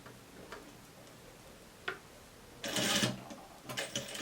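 A sewing machine stitches a shirt seam in short separate ticking runs, with one louder burst of stitching in the middle, close and moderately quiet.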